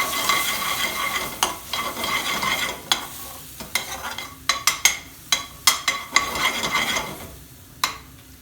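Powdered spice mix, chilli and garam masala frying and sizzling in a pan for a lamb balti, with a steady sizzle broken by repeated sharp scrapes and stirring knocks of a utensil against the metal pan.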